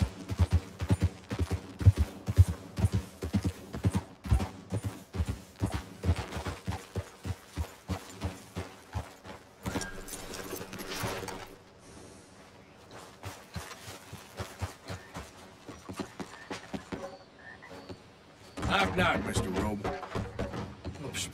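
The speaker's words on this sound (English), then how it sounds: "Oh yeah, I'm riding a horse." A horse ridden in Red Dead Redemption 2 gives a rhythmic clip-clop of hooves over the first half. The hooves then ease off, and game sounds and a brief burst follow.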